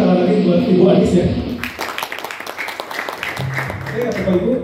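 Audience applause at an Islamic business seminar breaks out for a speaker, a short burst of scattered clapping sandwiched between amplified voices talking before and after.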